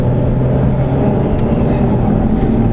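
A truck descends a steep 10% grade on a highway, its engine and road noise forming a loud, continuous low rumble close by, with no distinct gear-shift break evident.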